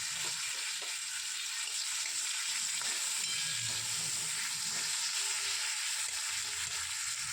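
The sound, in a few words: potatoes frying in a pan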